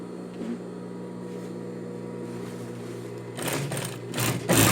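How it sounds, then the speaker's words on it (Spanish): A sewing machine stitches a double seam on capri pants, humming in a steady close whir that grows louder and busier in the final second or so. "Entonces le hago esta doble costura hasta abajo."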